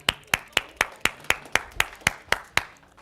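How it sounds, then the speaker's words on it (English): An audience at a research school talk claps in steady unison, about a dozen sharp, evenly spaced claps at a brisk rhythm, close and clear with no talking. "Give yourself a round of applause"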